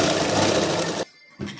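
A sewing machine runs a double stitch on a half-collar neckline, whirring loud and close for about a second. It stops briefly, then starts again for a short burst.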